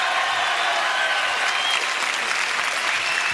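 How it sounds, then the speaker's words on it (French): A French television studio audience claps for a guest, loud continuous applause from a full crowd, dense and even from start to finish. "Applaudissements pour Gisèle Flavie, mesdames, messieurs, qui est ici."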